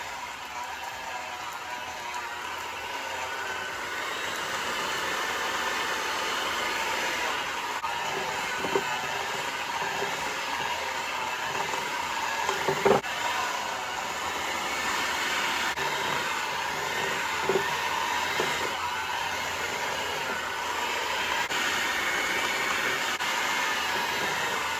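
An electric mixer works flour into a cheese and butter dough for Southern cheese straws. It gives a steady, continuous whirring drone with a few light knocks from the bowl.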